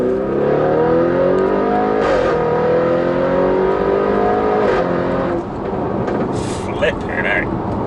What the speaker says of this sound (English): And I'm on about three quarters throttle there. It just pulls and pulls and pulls, and it sounds awesome.